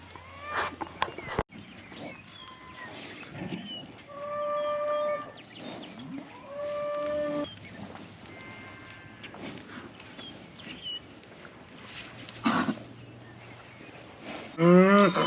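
Heifers moo repeatedly at a cattle breeding operation, several drawn-out calls from different animals at varying distances, with occasional footsteps and a clatter in between.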